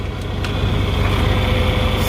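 A John Deere 4020 tractor idles up close with a steady, loud diesel rumble and an even low chug. No voices are heard over the engine.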